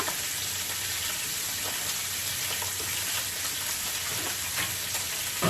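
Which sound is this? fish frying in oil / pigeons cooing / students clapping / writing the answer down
fish frying in oil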